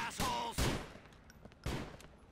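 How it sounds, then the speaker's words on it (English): Gunfire from the video game Grand Theft Auto IV: The Lost and Damned, three sharp bursts spaced over a couple of seconds, fairly quiet and reverberant. "Shooting at everything."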